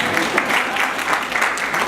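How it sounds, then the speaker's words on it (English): Audience applause for the speaker's husband during a talk, a loud, close wash of clapping with a slight pulsing rhythm and faint voices mixed in. "he does deserve applause"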